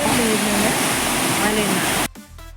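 Waterfall roaring steadily and loudly up close in a hill-pass setting, its broad rushing wash filling the first two seconds before cutting off abruptly into a quieter background.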